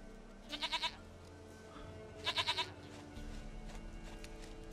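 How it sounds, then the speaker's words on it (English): Two distinct quavering bleats from a goat in The Witcher 3, each a short trembling burst, heard alone over a low ambient game drone. "We found Princess, your damn goat."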